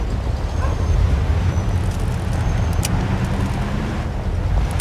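A car engine in the video game Mafia 2, set in the 1950s, drones steadily at close range with a low rumble, alone and without speech.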